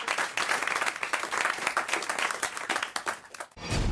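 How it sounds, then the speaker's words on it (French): Studio applause on a French radio show: a steady, full round of clapping from a small crowd for about three and a half seconds before it cuts off abruptly. "Allez, on vous applaudit, on vous embrasse."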